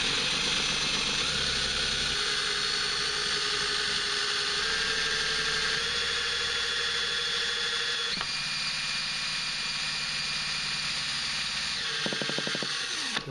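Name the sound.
cordless drill spinning Greatwatt wind turbine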